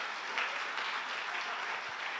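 A congregation at a GBI church service in Batam claps together in a dense, steady wash of applause that stays even for a couple of seconds.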